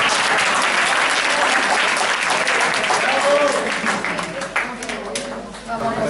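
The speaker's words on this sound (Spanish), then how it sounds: "Un aplauso." A room of teachers at a summer school workshop breaks into dense, close applause that holds strong for several seconds, then gradually thins and fades toward the end.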